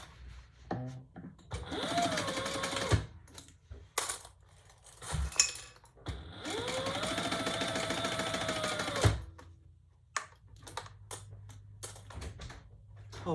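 A sewing machine runs in two long bursts, back stitching along the raw edge of a fabric traveler pouch, its motor whirring steadily between short pauses, clicks and handling noises.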